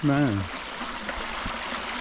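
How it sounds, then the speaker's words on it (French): Rainwater running like a small river down a flooded hiking path on a pilgrimage trail, a steady broadband rush that follows a brief loud voice at the start. "chemin s'est transformé en rivière"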